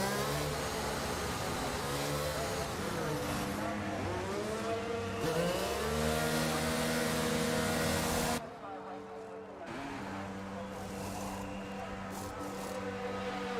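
Race cars in a racing video game heard from onboard a Mercedes on the back straight, a loud continuous engine drone with rising and falling revs and gear changes, briefly dipping before steady engine noise returns; commentary runs over it.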